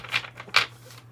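Urban Tarot cards shuffled close up, giving two quick crisp riffling bursts with a light papery flutter between them.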